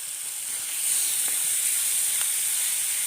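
Chopped ginger and garlic fry in a pan for a bitter gourd curry, giving a steady, close sizzling hiss that holds at an even level throughout, with no voices.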